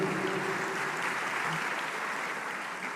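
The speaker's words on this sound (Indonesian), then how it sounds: "Tepuk tangan untuk" Steady applause from a seated audience at a youth leadership inspiration event, welcoming a guest, a government deputy minister, a dense even wash of clapping throughout.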